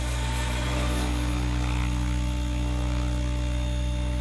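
A Goosky RS7 RC helicopter hovers on its maiden flight in a backyard, giving a steady, loud, droning whine and rotor hum with strong sustained tones throughout.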